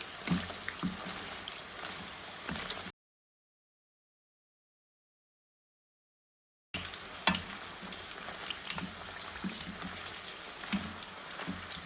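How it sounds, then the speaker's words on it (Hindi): Poori sizzling and crackling steadily in hot oil, a dense close frying hiss with small pops, cut off by a stretch of silence before resuming just as busy. "इसको बस 1 आध मिनट में ही दूसरी साइड से हम लोग फ्राई करेंगे।"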